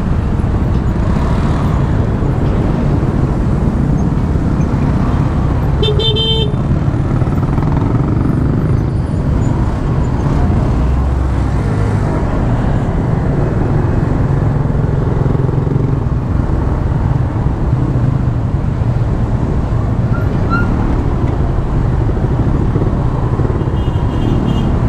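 Congested road traffic with cars and motorcycles, a dense, loud and steady engine roar throughout, with a brief tonal blip that may be a horn.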